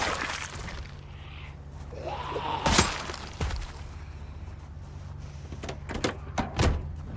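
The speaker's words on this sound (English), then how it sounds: "Wait for that car door sound." Car door sounds in an online video game, with a sharp slam-like burst mid-clip and several more brief clunks and clicks later, over a low steady engine hum with no talk.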